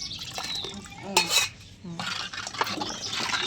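A spoon scrapes and clinks against a metal pot in irregular strokes while food is stirred, close by, with a faint sizzle underneath.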